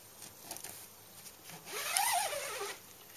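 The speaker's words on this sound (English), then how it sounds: "two zips on either side of the door." A zipper is drawn along the side opening of a canvas tent door, a faint, soft rasp rising and falling for about a second amid quiet surroundings.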